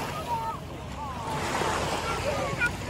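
Ocean waves wash and surge steadily while wind buffets the microphone, with indistinct voices faintly in the background.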